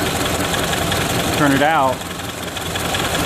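A Ford Model A engine idles at low rpm, a steady, even mechanical drone close by, with a person speaking briefly over it partway through.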